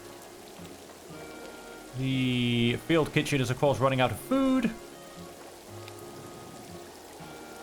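Rain falling in the trench warfare game All Quiet in the Trenches, a soft steady patter throughout, partly under someone speaking in the middle.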